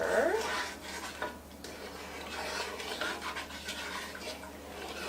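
A whisk or spoon scrapes and swirls through banana cream pie filling of scalded milk and sugar mixture in a pot, a close, soft rasping stir repeating in uneven strokes.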